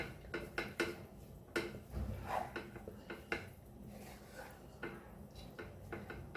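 Fried rice for a Goan recipe stirred in a pan, with a spoon scraping and knocking against the metal in quick irregular clacks and rubs, close and fairly quiet, with no voices.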